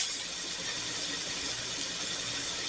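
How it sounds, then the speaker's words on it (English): Shallots, garlic and leek dropped into a hot pot sizzle with a steady, close, bright hiss that holds evenly throughout, with no talk over it. "So now we're just going to drop all our vegetables"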